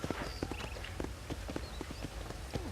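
A horse trots along in the video game Red Dead Redemption, its hooves making steady rhythmic clip-clop beats close by, with faint chirping ambience in the background.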